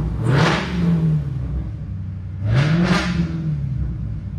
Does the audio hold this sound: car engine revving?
yes